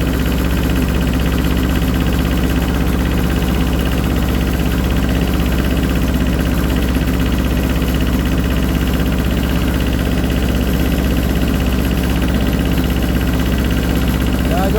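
Small tractor engine running with a steady low throbbing idle and mechanical vibration, loud and constant throughout, with someone talking over it.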